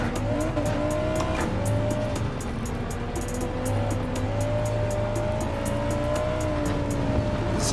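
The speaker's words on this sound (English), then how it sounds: "I do like what this car sounds like." A race car engine in Gran Turismo 7 on PS4 Pro roars steadily with a high whine and occasional tire squeal, continuous and close, with no talking.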